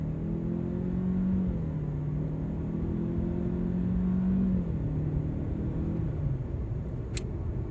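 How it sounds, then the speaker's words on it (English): A 2020 Chevrolet Malibu engine accelerating, a steady droning hum whose pitch climbs and then drops back, with a faint click near the end and no talking. "the engine was working hard when you gotta get it up to speed"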